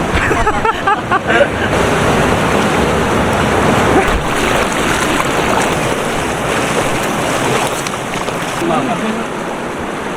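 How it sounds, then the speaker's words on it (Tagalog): A strong river current rushes near Curtain Falls in Abra, a loud, dense, continuous churning of water close by, with brief voices and wind buffeting early on. "lakas ang agos"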